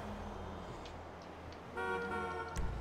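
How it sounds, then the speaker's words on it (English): A car horn in a driving video game sounds one long, steady blast partway through, over a low engine hum and faint clicks. "No, stop honking."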